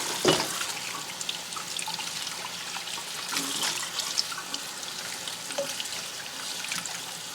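Running tap water over collard greens being washed in a sink, a steady splashing hiss with small bursts and drips as the leaves are handled, close and continuous without speech.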